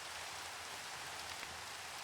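Steady, dense hiss of rain falling in the video game Minecraft SkyFactory 5, an even wash of patter with no break and no voices.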